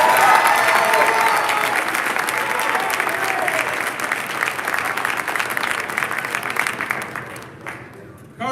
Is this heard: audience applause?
yes